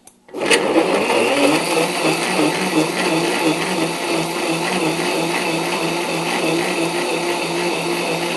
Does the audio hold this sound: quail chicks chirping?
no